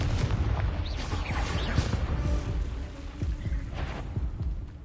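Explosive Confringo spell blasts in Hogwarts Legacy, the game's booming impacts landing one after another with low thuds and crackling debris over a dense, loud battle background.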